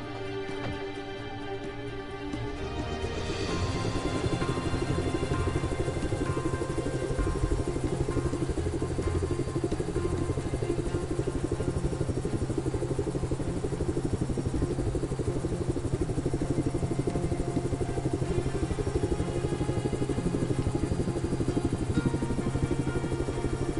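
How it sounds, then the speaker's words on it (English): A helicopter in a video game thrums steadily with a loud, continuous rotor chop and engine drone that swells in after a few seconds and holds without talk. "Do I get to go in the helicopter?"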